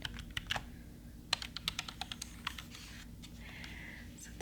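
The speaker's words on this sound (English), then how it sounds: "I love hearing people typing" Keys tap on a soft black Logitech computer keyboard in a quiet room, close and gentle, a brisk irregular run of light clicks with a short pause and then more faint typing.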